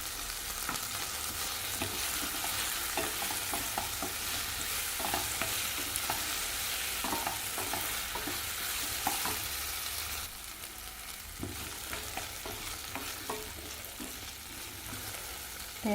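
Grated coconut and softened tomatoes sautéing for a vegetarian curry masala, a constant close sizzle with light spatula scrapes and taps throughout, easing slightly toward the end.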